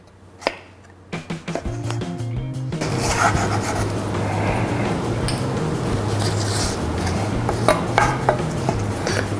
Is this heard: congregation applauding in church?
no